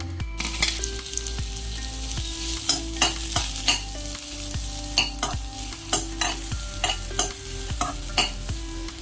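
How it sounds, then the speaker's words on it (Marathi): Chopped onion frying in a pan for Malvani fish curry masala, a continuous sizzle broken by rhythmic scraping stirs of a spoon roughly every second, close and fairly quiet, with no speech. "आता आपण चिरून घेतला थोडासा कांदा आहे तो भाजून घेऊया."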